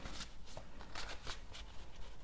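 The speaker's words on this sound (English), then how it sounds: "Shuffling the cards, reading from my handmade Marseille ancient deck." Handmade Marseille tarot cards being shuffled in quick, repeated riffling bursts of papery rustle, close and fairly quiet, with no talking.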